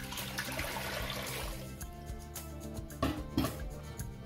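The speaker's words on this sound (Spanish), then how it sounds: "Regresamos a la cocina y ponemos una nueva agua." Fresh water pouring into a cooking pot in a kitchen for cooking beans, a continuous splashing gush with a couple of louder clanks or splashes near the end.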